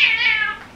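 A house cat gives one clear, drawn-out meow, close and loud, with no talk over it.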